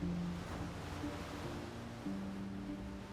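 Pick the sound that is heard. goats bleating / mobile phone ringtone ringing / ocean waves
ocean waves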